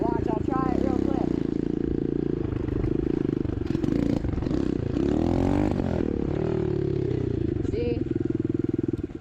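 A motorcycle engine revs close by during a no-clutch power wheelie attempt, with a rising and falling roar and some clatter, under a voice speaking briefly.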